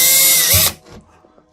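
Power drill boring a hole into a wall to mount a Philips wireless doorbell kit, a loud steady whir lasting under a second that then cuts off abruptly and leaves a faint rattle.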